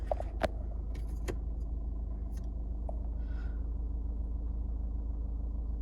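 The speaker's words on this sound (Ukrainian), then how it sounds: "Заводиться з півоберту." A used diesel car's engine turns over and catches, then settles into a steady low idle rumble, heard close with a few faint clicks and key jingles at the start.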